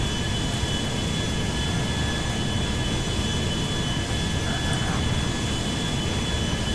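Airbus A350 jet engines in the GTA 5 video game roar as a steady, loud, broadband rush with a faint high whine running continuously and unchanging throughout.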